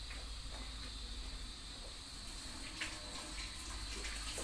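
Hands are washed under a running kitchen tap while rice pilaf cooks nearby, giving a steady, fairly quiet broadband rush of water that continues without pause for the whole stretch.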